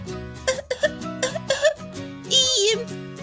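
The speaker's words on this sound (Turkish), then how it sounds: "biraz öksürüğüm var." Several quick, voiced coughs in a row from a high, childlike voice, ending in a longer strained vocal sound.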